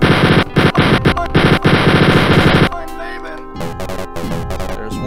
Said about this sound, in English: I highly recommend the chain gun